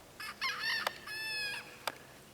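Thin, squeaky crowing from young roosters: two short, strained calls close together, nearby, with a couple of faint clicks and no talking.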